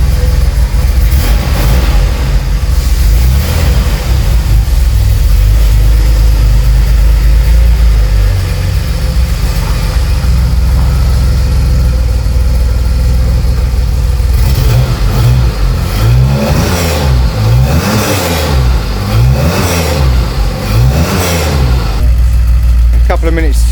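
Engine of a classic car with mechanical fuel injection, cold-started in a garage after sitting since the previous August, idling steadily and then revved in several quick bursts, loud and close, with someone talking over it.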